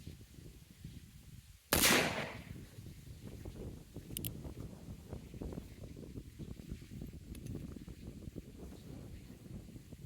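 A single sharp, loud gunshot from a .36 caliber cap and ball revolver cracks outdoors at a range, followed by a brief echoing tail and steady wind noise with faint rustling afterward.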